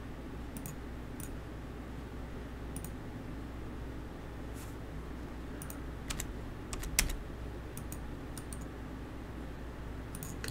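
Computer mouse clicks while working in Autodesk Inventor 2017, a series of sharp, light clicks scattered irregularly over a steady low room hum, some in quick pairs, with no talking.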